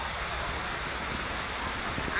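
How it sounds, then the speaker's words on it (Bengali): Steady, dense rain pours down in an even, continuous hiss at a fairly strong level, with no breaks. "আর দেখ বৃষ্টির অবস্থা"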